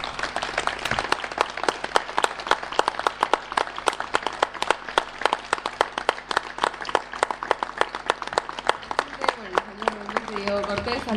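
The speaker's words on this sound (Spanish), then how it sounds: "¿Podemos pedir un aplauso antes para el Diego?" Tribute audience for Diego Cortés applauding, dense sustained clapping from a crowd for about eleven seconds, close and loud, with some voices mixed in near the end.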